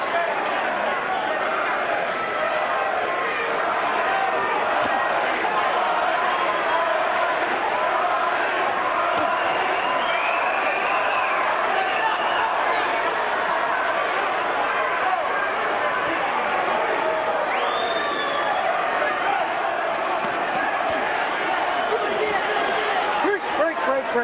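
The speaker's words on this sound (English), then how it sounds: "Much of the crowd chanting Ruiz, Ruiz, Ruiz." A boxing arena crowd at the Holyfield vs Ruiz fight keeps up a steady, loud, diffuse roar and chant for Ruiz, with commentators talking over it throughout.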